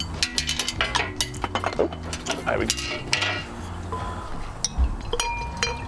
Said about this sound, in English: Shall we crack these open, yeah, get them in the glass and see how they look